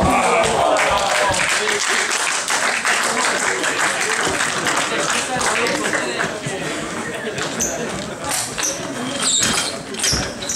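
Applause from a small crowd in a cramped club hall at an amateur table tennis tournament, sustained clapping alongside voices and a few ball taps.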